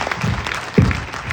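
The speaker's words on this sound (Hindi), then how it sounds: "सर के लिए तालियां हो जाए।" Crowd at a large event hall in Delhi applauding a speaker, a brief spell of clapping with some low voices and cheering mixed in.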